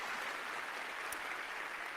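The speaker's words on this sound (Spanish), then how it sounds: "démosle palmas fuertes a nuestro Señor." A congregation claps at an evangelical church service, a steady dense patter of hands that sounds fairly distant and soft, with no voices over it.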